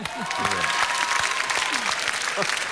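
Studio audience at a televised Greek Idol live talent show applauding steadily and loudly throughout, dense crowd clapping with a voice speaking briefly over it.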